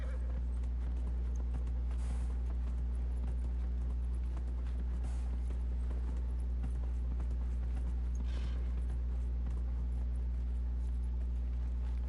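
Rhythmic clip-clop of horse hooves running steadily on a hard surface in the video game Dragon Age: Inquisition, with a low constant rumble underneath and no speech.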